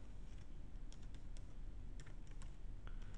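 Quiet typing on a computer keyboard while writing Java code, a soft run of irregular key clicks close by with no voices.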